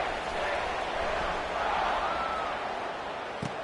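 A stadium crowd in a college football video game roars steadily throughout, a broad loud wash of cheering with no pauses and a thud near the end.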